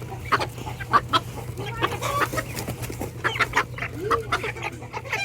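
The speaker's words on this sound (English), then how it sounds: "Haley's trying to catch the chickens." Several backyard chickens clucking in repeated short bursts close by, with a little orange hen and a white one among the flock, while a steady low hum runs underneath.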